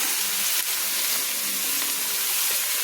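About two chopped onions hit a hot pan for street-style veg chowmein, giving a steady, loud, hissing sizzle that fills the whole moment with no voices.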